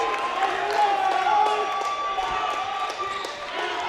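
Crowd at a men's college basketball game against Lansing, a steady mass of cheers and noise after a slam dunk on a rebound, with squeaking sneakers and a bouncing ball under the crowd roar.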